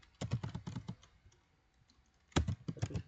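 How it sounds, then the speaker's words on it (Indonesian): Computer keyboard typing while entering an IP address in Packet Tracer: two bursts of quick, close clicking keystrokes separated by a quiet pause. "Lalu kita ketik IP-nya"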